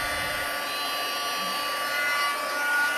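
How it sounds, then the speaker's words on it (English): A heat tool blowing hot air for a black ice craft technique: a continuous steady whooshing hum at close range, unbroken and fairly loud for the full few seconds, with no voices. "So heat up my heat tool a bit."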